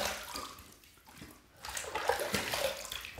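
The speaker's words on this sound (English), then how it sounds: "Let's rinse." Water running and sloshing as a vintage single edge razor is rinsed, a steady close wash of flowing water that dips briefly midway and then swells louder.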